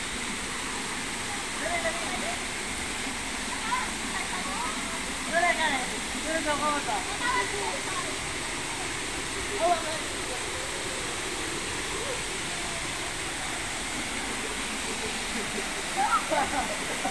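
Tagtugonan waterfall in Davao del Norte roars in a steady, broadband rush that fills the whole clip, with faint voices of people nearby.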